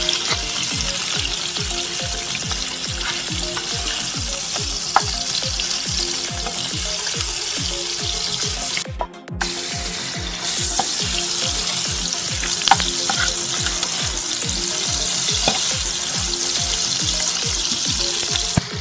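Vegetables frying in a pan, browning for a noodle dish, with a loud, constant sizzle and rhythmic stirring scrapes throughout and a brief dip in the middle.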